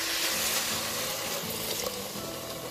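Water pours into a pot of cooking chana dal in a steady, continuous splashing gush, close and fairly loud, with a faint sizzle beneath it.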